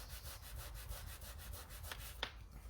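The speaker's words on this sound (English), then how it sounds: "I'm going to fold over this top flap and give it a good rub" Rubbing along the folded top flap of a paper greeting card, a steady dry scraping in repeated short strokes, close and fairly quiet, with no talking.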